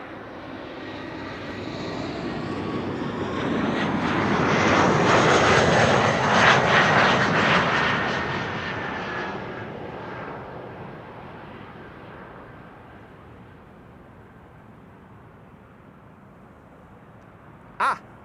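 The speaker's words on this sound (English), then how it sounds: "Air Arabia Morocco arriving from Tangier in Morocco." An Air Arabia Morocco airliner arriving at Amsterdam Schiphol from Tangier passes nearby, its engine roar building to a broad peak midway and then fading into a low distant rumble, ending with a sharp brief noise.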